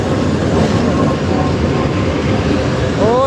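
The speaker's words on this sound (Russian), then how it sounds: "Дождалась, любимый поезд." A loud, steady rumbling roar of a passing passenger train bound for Moscow, with a faint high squeal of wheels near the end.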